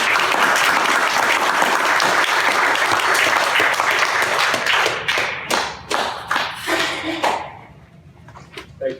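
An audience at a poetry reading launch applauds a poet, loud sustained clapping that thins out into a few scattered claps and then fades.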